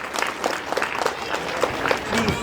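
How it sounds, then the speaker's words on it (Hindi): An audience claps at a school award ceremony: a continuous patter of many hands, moderately loud, with a voice speaking over it. "तालियों के साथ।"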